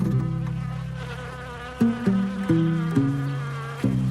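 Mosquitoes whine steadily at close range, a loud continuous buzzing drone that shifts pitch in several abrupt steps as the insects move, with no voices.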